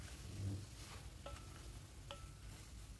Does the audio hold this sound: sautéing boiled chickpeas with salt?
yes